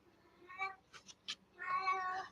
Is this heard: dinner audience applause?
no